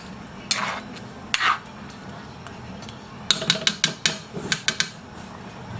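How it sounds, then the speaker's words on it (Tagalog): A spoon stirs pork blood stew in a pot, with sparse scraping at first, then a quick series of clinking strokes against the pot, close and fairly quiet with no talking. "continuous po yung paghalo para iwas mamuo yung dugo"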